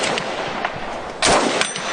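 A single sharp rifle shot from a Chinese Type 97 FTU rifle, a compact rifle that keeps a long barrel, cracks out about midway through against steady outdoor background noise.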